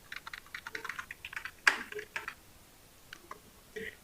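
Keystrokes on a computer keyboard while writing an HTML paragraph: a run of quick, close clicks, then one sharper, louder press of the Enter key, followed by a few scattered taps.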